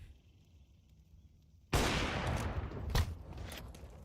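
Gunfire erupts during a Counter-Strike match, a sudden loud burst of rapid shots followed by sustained crackling fire with another sharp report, over a quiet lead-in.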